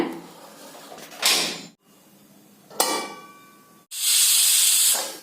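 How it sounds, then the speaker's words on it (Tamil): Three loud bursts of hissing steam from a pressure cooker, separated by short silences, the last a sustained strong blast. "குக்கர் மூடி போட்டு மூடி 4 விசில் விட்டுறலாங்க."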